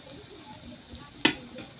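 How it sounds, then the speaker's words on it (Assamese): Onions frying in oil in a pan on a gas stove by a window make a soft, steady sizzle close by, broken by one sharp tick of a spatter or utensil. "এতিয়া পিঁয়াজটো ভজা হৈ গৈছে"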